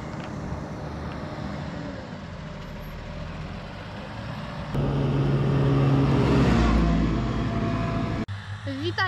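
A vehicle drives along with a steady engine rumble and road noise, growing louder and rougher midway as it works harder, then cutting off abruptly near the end; a voice speaks over it.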